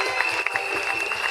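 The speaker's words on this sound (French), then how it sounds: "Acclamez le Seigneur Jésus." Congregation clapping at a healing campaign church service, a dense steady wash of many hands applauding together, loud and continuous without pauses, with no voices rising above it.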